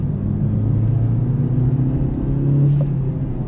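Steady, close engine drone and road rumble from inside a 2026 Maruti Suzuki Ertiga VXi seven-seater accelerating through its gears, a continuous low hum with no distinct shift breaks.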